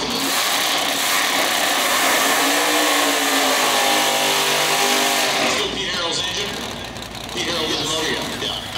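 A Blasphemi hot rod drag car on its first pass with new equipment roars loudly and steadily at high revs, then the engine note drops and fades away as voices speak over the background.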